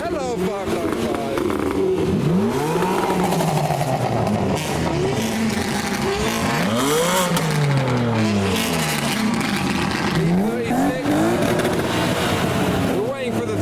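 Lowered cars, including a Nissan 350Z, rev their engines hard inside an echoing tunnel, loud and close. Engine notes rise and fall over and over, the reverberation thick, and people talk underneath.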